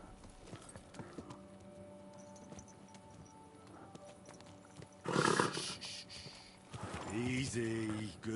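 A horse in the video game Kingdom Come Deliverance 2 clops along with steady hoofbeats at low volume, then louder snorting and equine vocal sounds break in near the end, with talk mixed in.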